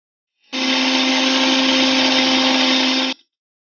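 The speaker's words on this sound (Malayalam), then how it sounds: "ഇനി ഈ കൂട്ട് നമുക്ക് ഒരു മിക്സിയുടെ ജാറിലോട്ടിട്ട് ഇത് നന്നായിട്ടൊന്ന് അരച്ചെടുക്കാം" An electric mixer grinder jar whirs loudly for about three seconds as it grinds an egg bajji chutney mixture, starting and stopping abruptly, close and alone.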